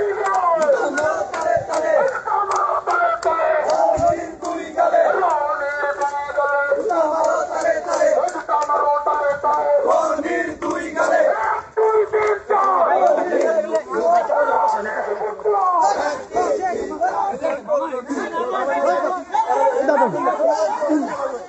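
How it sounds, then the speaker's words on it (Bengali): Dhaka College students chanting protest slogans at night in the college hall area, a dense crowd of many voices shouting and calling out together, loud and continuous with overlapping chatter throughout. "ঢাকা কলেজের হলপাড়ায় ঢাকা কলেজের শিক্ষার্থীরা বিভিন্ন স্লোগানে উত্তাল করছে ঢাকা কলেজ"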